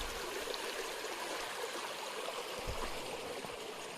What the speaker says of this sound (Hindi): उसके नीचे पानी बह रहा है, और ये अच्छा खासा बह रहा है।